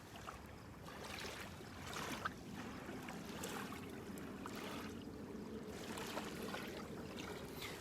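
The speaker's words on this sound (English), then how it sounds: "Can you hear the waves coming in?" Gentle waves wash in and lap against a shore with a soft, continuous rushing swell and faint repeated splashes, steady and moderately distant, with no voices.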